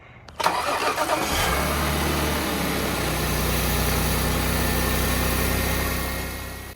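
An Audi S4 B8 supercharged car engine cranks and catches, then settles into a steady, close idle that hums on evenly until the end, after a coolant drain and refill.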